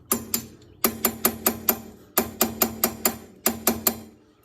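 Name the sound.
loosening a brake caliper pin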